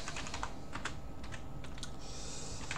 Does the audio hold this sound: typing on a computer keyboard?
yes